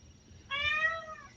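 A domestic cat gives a single clear, drawn-out meow close by, rising then fading over about a second in a quiet room.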